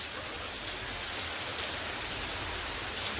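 Steady, dense rain falls continuously, a close hiss of drops on surfaces with no breaks or voices.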